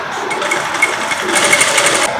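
Electric sewing machine stitching a short gown from three meters of cloth, a loud, fast, even whirring run of stitches close up, steady throughout with no talk.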